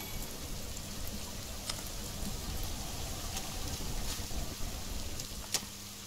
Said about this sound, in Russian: тут же дождик сейчас идет